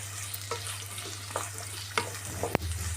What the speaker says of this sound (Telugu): ఆయిల్ హీట్ అయ్యాక ఎర్రగడ్డలు వేసుకున్నాము ఫ్రై చేసుకున్నామండి